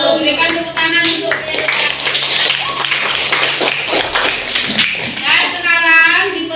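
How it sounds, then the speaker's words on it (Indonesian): Schoolchildren clapping in a classroom during a teacher training lesson, loud bursts of hand claps mixed with children's voices and talking, some rhythmic patterned clapping near the start and end. "Berikan tepuk tangan untuk"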